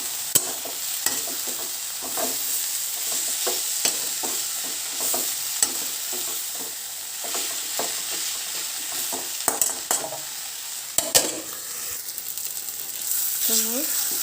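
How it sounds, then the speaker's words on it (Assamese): A spice masala of onion, tomato, ginger, cumin and turmeric fries in a pan, a steady sizzle punctuated by frequent stirring clicks and scrapes of a spoon. "মোৰ মছলাটো ভাজি হৈ গ'ল"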